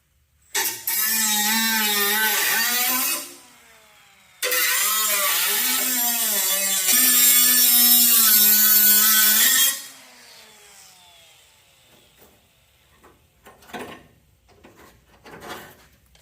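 A power tool cuts through a Pontiac car body panel in two loud, whining bursts of several seconds each, followed by quieter scraping and clatter as the cut piece is handled.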